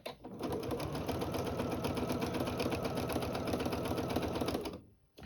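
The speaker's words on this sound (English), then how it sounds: "So I'm just doing a nice straight stitch, nothing fancy." A sewing machine runs a steady straight stitch, its rapid needle clatter continuous and close for about five seconds before stopping abruptly.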